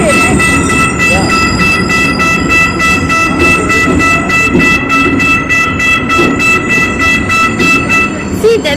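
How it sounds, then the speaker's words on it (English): A train at a railway station in Cairo, Egypt, with a steady loud rumble, rolling wheels and high whining tones throughout, heard up close on the platform with faint voices in the background. "We're taking this train, right?"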